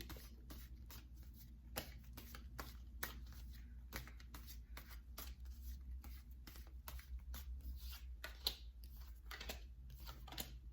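Tarot cards are drawn and shuffled from a deck close up, giving soft, quick papery flicks and slides in irregular bursts over a low, quiet background hum.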